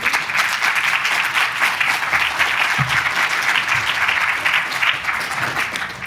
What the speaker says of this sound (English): Give a big round of applause, please, for Nisha and for Nisha.